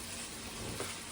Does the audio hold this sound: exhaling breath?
no